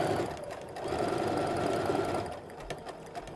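A sewing machine hums steadily while stitching quilt half-square triangles, with a slight slowdown and a few clicks toward the end and no talk.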